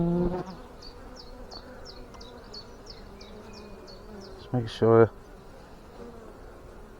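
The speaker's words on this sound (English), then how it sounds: "Just blowing bees off the frame." Honeybees buzz around a hive frame during an inspection, a steady close hum with a person's voice briefly at the start and a louder burst of handling noise near the end.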